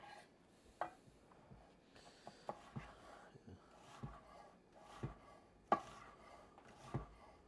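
A small sharp knife chops on a board in quiet, uneven taps, about a dozen faint strikes spread over several seconds, some firmer than others.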